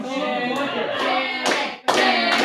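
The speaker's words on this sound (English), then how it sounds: "They're cheering for Shannon Truitt." A crowd at a missions celebration cheers and claps together, the applause swelling, dipping briefly and then surging back loud and close.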